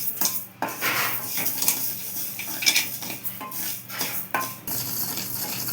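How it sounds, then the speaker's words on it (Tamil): Whole spices such as fennel and cloves stirred and tossed in a metal pan over a low flame, with steady scraping, clinking and faint dry rustling throughout, no talk. "தீயை கம்மியாக வச்சுக்கிட்டு வறுக்கணும்"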